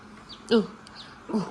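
Two short bursts of high chirping from young chicks, close by, with quiet gaps between them.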